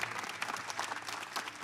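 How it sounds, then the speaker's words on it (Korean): A church congregation at a Sunday morning worship service applauds in thanks to God, with a dense, continuous wash of clapping heard faintly from a distance. "우리 하나님께 한 번 더 감사의 박수를 올려드립니다"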